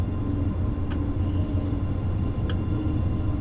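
A train in the video game Train Sim World 2, on a snowy high-speed line near Köln, runs with a steady loud rumble and low drone, with a couple of faint clicks.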